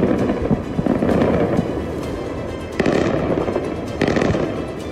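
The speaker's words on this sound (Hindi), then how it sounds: "तेहरान और गिरदोनवाह में मुसलसल हमले सुनाई दे रहे हैं।" Repeated explosions from Israeli strikes on Tehran: a dense, rumbling barrage with several sharp booms standing out around two or three seconds apart, loud and continuous, with no voices.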